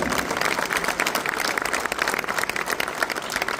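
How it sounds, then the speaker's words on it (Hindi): An audience at a workers' union (CBA) charter of demand event claps steadily, dense continuous applause filling the room with no speech over it. "इनके लिए ताली बजाएं"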